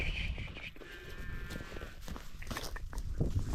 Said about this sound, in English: There's the cows right there.